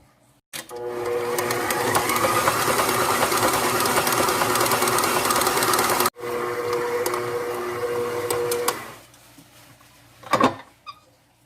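A stand mixer kneads butter roll bread dough with a steady, loud mechanical whir, briefly cut off near the middle and then resuming before it stops, followed by a few faint clicks and a knock.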